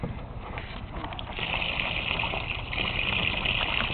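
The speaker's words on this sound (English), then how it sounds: "Why don't you run the sprayer for her?" A garden sprayer shoots water across a backyard pool, a steady hissing spray that grows louder and brighter midway, with splashing water underneath.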